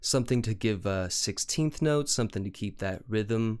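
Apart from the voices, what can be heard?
No distinct noise like a dog, phone or traffic.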